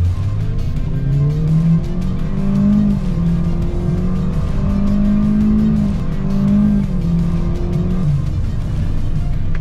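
Kia Sonet with a 1500 cc engine and CVT, in sport mode, accelerating hard from inside the cabin, a steady loud engine drone with its pitch rising in stepped climbs that mimic gear shifts over several seconds.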